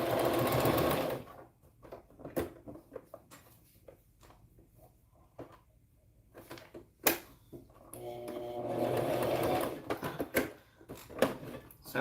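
A sewing machine runs a back stitch on fabric for a preemie garment, giving a steady close whir that stops, then a few clicks and handling noises before it whirs again for a second burst.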